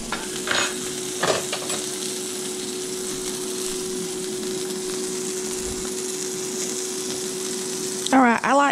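Sausage frying in a pan for a Southern breakfast, a steady moderate sizzle with occasional soft scrapes and a steady hum underneath, and a voice speaking briefly at the very end.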